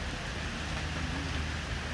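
Steady rain falls outdoors near a bench, a dense, even hiss of drops on surfaces with a faint low rumble beneath, continuous and with no one speaking.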